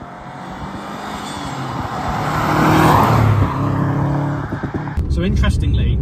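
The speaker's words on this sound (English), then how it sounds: "It is such an easy car to drive quickly." A Subaru Impreza Turbo 2000 Prodrive driven briskly, its engine note loud and steady from inside the car, swelling mid-clip before a voice starts talking over it near the end.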